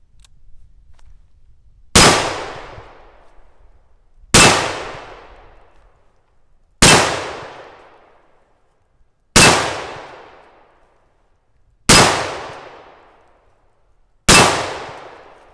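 An AR pistol fires six loud, sharp shots at a steel target, evenly spaced about two and a half seconds apart. Each crack rings out briefly and decays, with near silence between them.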